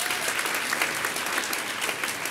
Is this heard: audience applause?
yes